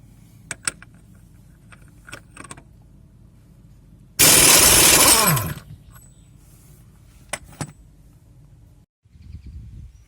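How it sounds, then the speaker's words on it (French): An impact wrench rattles off the crankshaft accessory belt pulley with a 36 mm socket on a 2.8 idTD Fiat Ducato, one loud burst of about a second and a half, framed by quieter clinks and handling noise. "Voilà, à la clé à choc."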